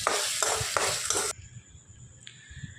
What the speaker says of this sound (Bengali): এখন মশলাটাকে কষিয়ে নিচ্ছি